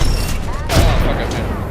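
A grenade blast in Apex Legends during a scrim match, a loud booming burst mixed with rapid gunfire that fills the whole short moment, with a player's voice talking over it.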